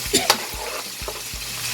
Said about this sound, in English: And then you turn it.